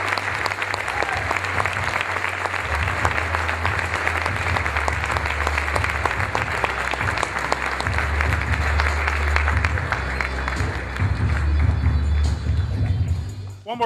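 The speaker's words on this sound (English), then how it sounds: "One more round of applause" Loud, sustained applause fills an awards gathering honoring a Man of the Year, with a low steady hum underneath and murmuring voices in the room throughout.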